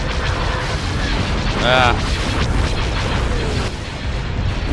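Heavy booming blasts and cannon fire from a Star Wars space battle game rumble continuously, with a rising whistling burst in the middle and a brief voice over the din.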